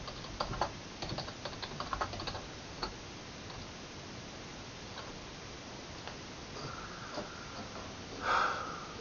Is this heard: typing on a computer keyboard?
yes